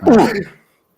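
A single short, loud sneeze, sharp and close, trailing off quickly into silence.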